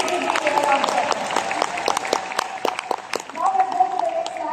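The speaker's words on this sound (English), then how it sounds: "Can you please give me a round of applause?" An audience at a business talk claps in a steady, moderately loud round of applause, with a sustained tonal hum and voices heard faintly beneath the clapping.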